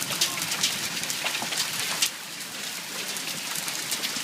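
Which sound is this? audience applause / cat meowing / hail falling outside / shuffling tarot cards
hail falling outside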